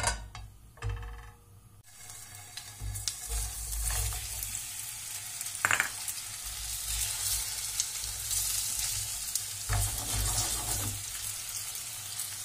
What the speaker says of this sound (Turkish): Patateslerimizi, köftelerimizi bu yağda biraz kızartıyoruz.